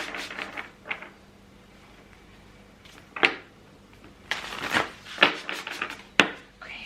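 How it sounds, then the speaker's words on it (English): A deck of tarot cards being shuffled by hand, heard as several separate crisp riffling bursts with short quiet gaps between them, close and moderately loud against a low room hum. "I'm just going to shuffle the deck quickly."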